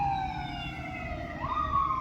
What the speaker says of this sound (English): it's an ambulance going by.